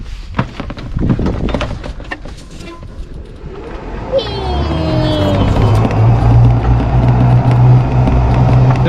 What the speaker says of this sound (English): this golf cart sounds like there's a herd of go-karts chasing me right now